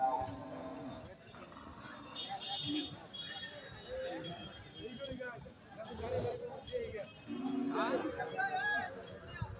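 Cattle at a busy village cattle market in Madhupur, Tangail, with lowing cows among a crowd of people chatting and bargaining, all blended into a steady outdoor hubbub.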